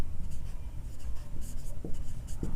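A pen scratches out a math solution on paper: short scribbling strokes in quick bursts, close and clear, with a faint hum beneath and no talking.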